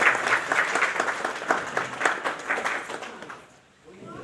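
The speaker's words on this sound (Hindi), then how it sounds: "तालियां बजाते रहें।" Audience applause at a school headmaster's retirement party, a dense run of clapping from a crowd that carries on for several seconds before dying away near the end.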